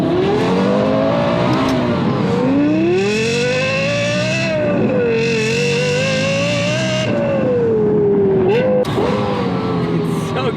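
Lexus LFA revving hard through the gears, its engine note climbing and dropping across several pulls. Loud and continuous, recorded close from inside the car, with a sharp upshift near the end.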